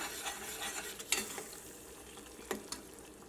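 Inji puli, a ginger curry, simmering in a pan over low heat, with a faint steady sizzle broken by a few sharp spoon scrapes and clinks against the pan.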